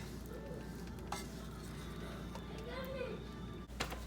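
Chopped carrot and onion cooking in a pan on the stove, with a faint steady sizzle, occasional utensil clicks and soft stirring, while a voice seems to speak in the background.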